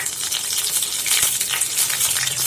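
Two cinnamon sticks land in hot oil in a flat pan while making channa masala, giving a steady, bright sizzle with a faint clink near the middle, close and continuous.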